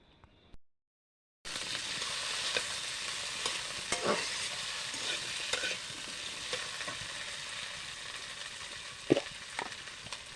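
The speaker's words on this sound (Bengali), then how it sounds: "এখন আমি তেল গরম হয়ে গেলে ওতে কেটে নেওয়া আলুগুলো ভেজে ফেলবো" Cut potatoes drop into hot oil after a brief silence, bursting into a steady close sizzle with occasional clicks and scrapes of stirring throughout.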